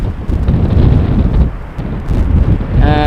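Gusty crosswind buffets an outdoor microphone at Amsterdam Schiphol Airport, loud rumbling and fluttering that swells and eases, with a brief tonal whine near the end.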